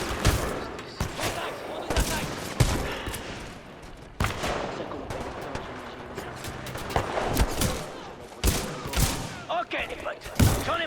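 Dense firefight from the Titanfall 2 video game campaign: rapid, loud bursts of automatic weapon fire and sharp single shots crack one after another throughout, layered over a thick battle din with sporadic heavier blasts and voices partly buried in the noise.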